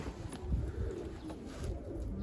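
Young homing pigeons coo softly at a rooftop loft, low murmuring calls close by over a faint background hiss.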